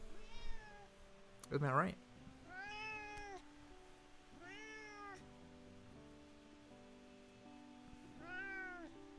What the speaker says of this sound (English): that's my baby cat